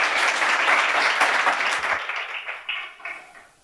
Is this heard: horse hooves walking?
no